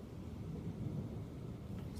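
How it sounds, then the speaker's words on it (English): Thunder rolling during a windy thunderstorm, a faint, low continuous rumble that swells and lingers. "A lot of thunder."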